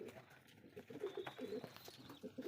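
A pigeon coos in soft, repeated low throaty notes at moderate distance, with other faint bird sounds and a quiet voice in the background.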